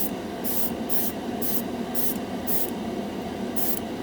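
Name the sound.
spraying Spaz Stix Mirror Chrome spray paint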